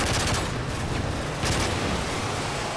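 Dense, rapid gunfire rattles continuously at a subway train in Modern Warfare 3, loud and close, with bursts running together and almost no pauses.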